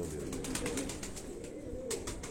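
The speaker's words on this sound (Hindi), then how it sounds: "ये एक दूसरा कबूतर है" Pigeons of a large-bodied breed cooing, soft repeated throaty pulses over a steady close background hum.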